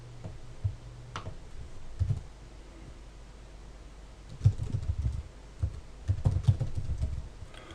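Keys on a computer keyboard are tapped in short bursts as a password is typed, producing quick light clicks with pauses between the flurries.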